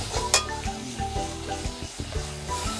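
Spices frying and sizzling in a pan for soybean curry, stirred steadily with a spoon scraping through the mixture, close and continuous with short clatters.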